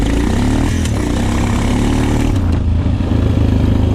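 A Honda TRX450 ATV ridden hard through snow, its engine roaring loud and close in a continuous, gritty drone that swells as the rider revs through the gears.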